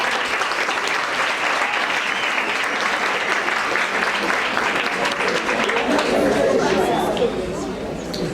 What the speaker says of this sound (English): I really think she deserves a big round of applause.